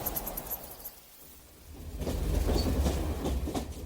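A train runs along the track in a radio drama effect, a quiet rumble that swells into a louder rhythmic clatter of wheels on rails, heard close and continuous with no voices.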